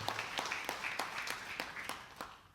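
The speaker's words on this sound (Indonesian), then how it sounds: "Berikan dulu tepuk tangan buat hamba Tuhan ini" A church congregation applauding during a sermon, a fairly faint, steady wash of many hands clapping with rhythmic peaks, no voices over it.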